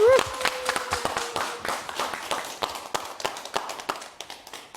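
Audience applause greets an internal medicine specialist's lecture on hypertension: a burst of scattered claps that thins into sparse, uneven clapping over a few seconds, with a brief voice at the very start.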